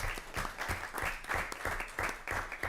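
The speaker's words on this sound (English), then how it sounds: "let's give her a round of applause" Applause at a school board meeting, a modest crowd clapping in a steady uneven patter that swells and dips, heard from a short distance in a room.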